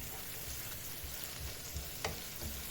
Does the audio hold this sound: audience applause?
no